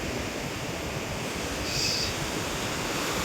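Steady broadband roar of sea surf washing onto a sandy beach, continuous and fairly loud throughout, with a wind-like hiss on top and no voices.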